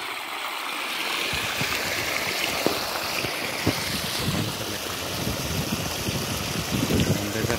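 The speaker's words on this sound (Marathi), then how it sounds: "मोटर चालू आहे. पाणी भरायचं काम चालू आहे." A steady, loud rush of water gushes continuously from a motor pump filling a well, with a low rumbling churn underneath and no pauses.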